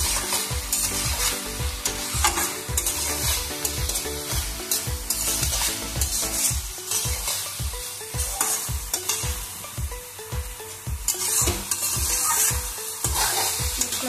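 A spoon stirs bottle gourd and lentil dumplings in a hot pan, giving a steady sizzle and frying hiss broken by repeated scraping strokes, close and with no talk.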